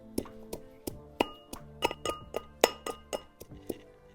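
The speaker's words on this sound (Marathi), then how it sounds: "आता म्हणजे ना लसूण टाकून घेते लसूण पण ठेचून घेते" Garlic cloves are pounded in a mortar and pestle, giving a steady series of sharp, ringing knocks, roughly three per second, close and moderately loud with no talking.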